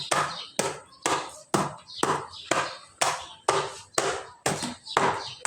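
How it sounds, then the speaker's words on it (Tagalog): A steady series of sharp, solid blows, about two per second, like a hammer repeatedly smashing ice, each strike followed by a brief crunchy clatter. "Gagamitan natin ng martilyo."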